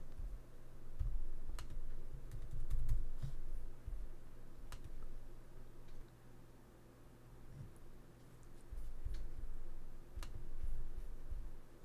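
Keys on a MacBook keyboard are tapped as a password is entered, giving scattered light clicks at close range over a low steady room hum, with no talking.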